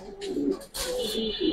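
Racing pigeons cooing close by, a soft throaty warble repeated in short phrases, with a brief rustle midway.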